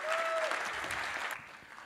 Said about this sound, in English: So just a round of applause for everybody who performed today here